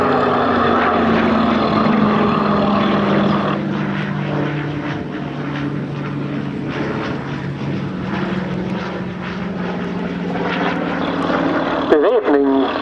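A Yak-3U WWII fighter plane's propeller engine roars steadily during take-off, loud and close, with someone talking over it throughout.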